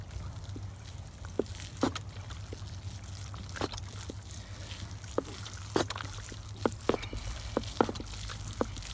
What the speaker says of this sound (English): Put some water on this guy.